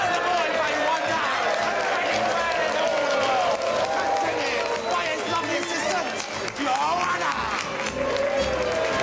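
Sustained applause and cheering from a theatre audience welcoming an illusionist on stage, a dense, loud wash of clapping and crowd noise continuing throughout.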